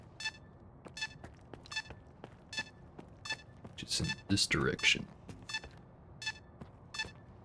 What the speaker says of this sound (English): As soon as I find the source of the beeping.